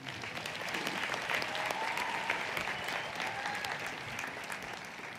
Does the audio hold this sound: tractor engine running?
no